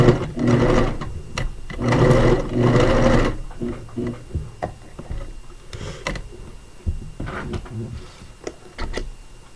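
A sewing machine stitches elastic onto a cloth diaper, running in short rattling bursts with pauses and small clicks between them, close and clear.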